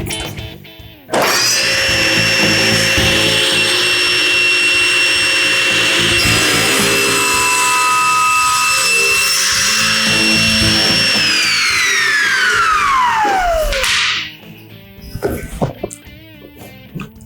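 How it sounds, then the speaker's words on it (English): A 3 horsepower SawStop table saw with a 36-inch T-glide fence starts up, runs loud and steady for about twelve seconds alone, then winds down with a falling whine. "This is my review of the 3 horsepower SawStop 36-inch T-glide fence."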